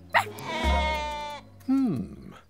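A cartoon lamb gives two bleats, the first long and wavering, the second shorter and falling, loud and close, with a brief voiced sound at the start.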